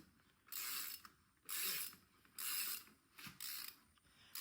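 A ratchet wrench cranks in quick bursts while a rear tire is removed from a Honda Shadow 600 motorcycle. Five or six close, loud spells of rapid clicking are separated by short pauses, with no talking.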